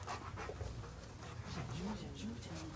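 A drug-sniffing police dog pants steadily at close range, quick rhythmic breaths running through the whole moment over a low background hum, with a faint whine near the end.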